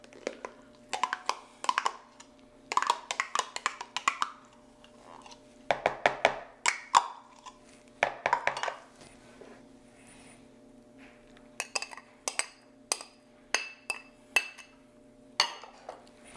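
A spoon or utensil clinks and scrapes against a bowl while holiday side dish ingredients are mixed, giving irregular bursts of tapping and rattling with short pauses, close and fairly soft.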